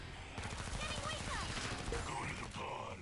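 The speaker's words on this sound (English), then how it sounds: "Burst fire is great for the long range" MP5RAS firing in burst mode in Killing Floor 2: sustained loud gunfire under dense game noise, with brief spoken talk mixed in.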